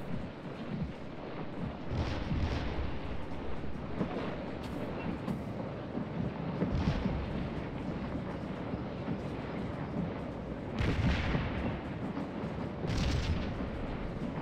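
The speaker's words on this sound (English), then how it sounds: "Be nice if we got a little bit of cannon fire over here." Civil War video game battle with booming cannon fire and rolling rumbles over a dense, continuous din of distant gunfire and battlefield noise, several heavier blasts standing out.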